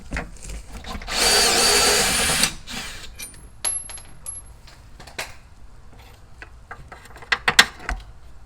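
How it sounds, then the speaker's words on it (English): A power drill turning a sway bar bolt, a single loud whirring burst of about a second and a half, followed by quieter metallic clinks and handling taps of the bolt and tools. "I had to break out the drill on that one"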